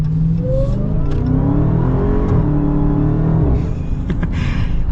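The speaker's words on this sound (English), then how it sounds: "that supercharger whine" A 2022 Dodge Charger Hellcat Widebody, 717 horsepower, revs hard nearby, its deep engine roar climbing with a rising supercharger whine layered on top before easing off, no talking.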